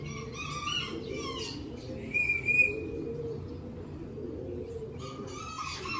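Racing pigeons in a loft, with soft cooing and scattered chirps over steady background noise, plus a brief louder flutter near the middle.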